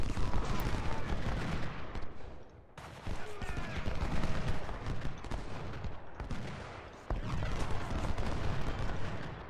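Musket volleys in a Civil War battle video game, set at Potomac Fort: dense, continuous crackling fusillades of gunfire, near and loud, swelling and breaking off in waves over nearly ten seconds with no talk.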